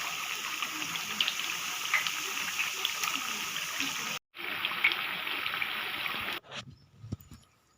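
Rice vada batter sizzles in hot oil, a steady, quiet crackling fry that cuts out briefly and drops off toward the end.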